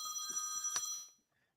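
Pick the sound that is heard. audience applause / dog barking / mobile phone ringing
mobile phone ringing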